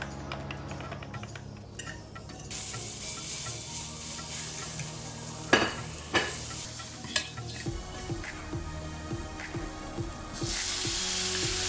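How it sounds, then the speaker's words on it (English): About a tablespoon of butter sizzling in a skillet, a hissing fry that swells partway through, with occasional utensil clinks and scrapes against the pan, close and steady with no voices. "I've added about a tablespoon of butter to my skillet."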